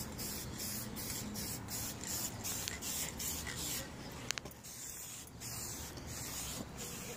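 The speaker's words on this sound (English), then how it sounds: "Starting the first coat on the Kawasaki tank" A first coat of spray paint goes onto a Kawasaki motorcycle gas tank, a steady close hiss that continues for several seconds with only slight dips and no talking.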